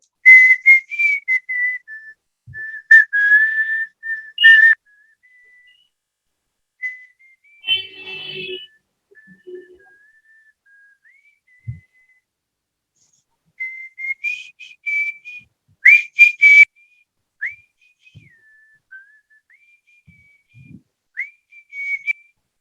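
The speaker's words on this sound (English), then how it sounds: "I like whistling. I can whistle" A person whistles a meandering tune in bursts and phrases with pauses, close and clear, with a few brief rustles and soft noises in the gaps.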